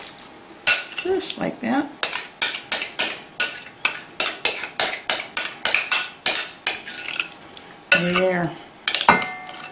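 Hot crab dip mixture scraped and spooned into a casserole dish, with a rapid run of metal spoon clinks and scrapes against the bowl and dish, plus a few brief spoken words.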